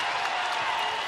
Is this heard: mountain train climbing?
no